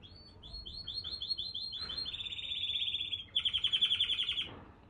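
A pet bird chirps in rapid repeated bursts, starting with quick light tweets and building into louder, dense trilling runs, close and prominent with no voices over it.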